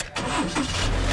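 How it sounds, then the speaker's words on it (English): A normal passenger car engine starting up, a short mid-pitched crank that settles into a steady running hum, heard close and alone. "So a normal car, when you turn it on,"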